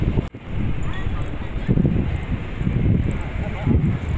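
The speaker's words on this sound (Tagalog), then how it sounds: "malamig malamig yung hangin kahit maaraw" Gusty wind buffets the microphone in low rumbling bursts at Yerba Buena Gardens, San Francisco, on a sunny, cool day, with faint background sounds and no clear talk.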